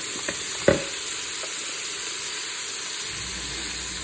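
Bell pepper and onion hit the hot Instant Pot with a single clunk, then a steady sizzling hiss carries on close by under a constant background drone, with no voices.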